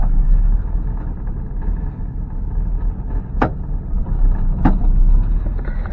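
A Ford Mustang engine running in a low, steady rumble while the car is being driven, with two brief sharp clicks or knocks partway through.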